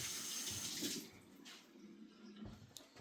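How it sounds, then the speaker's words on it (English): Hands being washed under a running tap in a kitchen while preparing ribs for a pellet grill, a steady faint rush of water with no one talking. "When it's all rubbed over, wash my hands."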